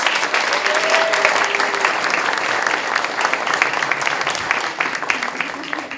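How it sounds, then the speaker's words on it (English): An audience claps continuously to welcome a speaker at an evening event, a full, even round of applause that tapers slightly near the end. "please welcome him with a big round of applause"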